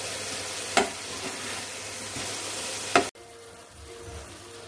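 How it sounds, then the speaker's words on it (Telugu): Chicken kalmi kababs fry in a pan with a steady broadband sizzle. Two sharp stirring or turning clatters break the sound, which then drops to a quieter sizzle near the end. "ఇటు వైపు అటు తిప్పుకుంటూ వేయించుకోవాలి"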